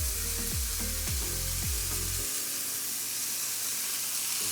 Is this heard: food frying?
yes